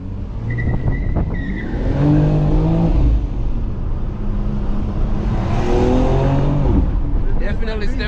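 A 2022 BMW X3M Competition's turbocharged engine revs and climbs through gears while driving hard, a loud, close, sweeping drone with turbo whine. Occupants talk over it.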